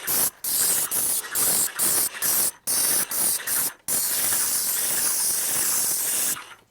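A paint sprayer spraying stain onto a shed hisses loudly in a series of short bursts, then in one long continuous spray, close up.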